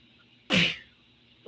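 One sharp sneeze bursts out close by and dies away within a fraction of a second against a quiet background.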